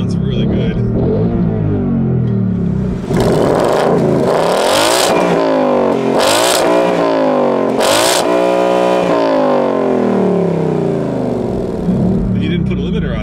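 A 2018 Ford Mustang 5.0 V8 revs hard in a parking lot, three loud sharp bursts to the limiter rising and falling in quick succession, with a voice speaking around them.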